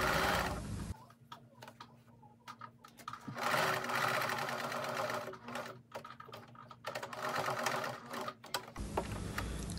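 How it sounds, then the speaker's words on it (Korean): A sewing machine stitches a cropped jacket's welt pocket along the pocket-lining seam line, running in steady mechanical bursts with brief pauses between them, close and clear with no talking. "그 입술 주머니감에 박음질한 박음질 선을 따라서 정확하게 그 선까지만 박음질을 합니다."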